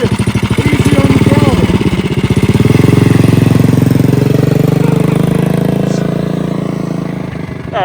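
Stick shift station wagon engine revved on the gas, a loud rough mid-pitched drone that swells and holds, then slowly fades, with voices talking over it.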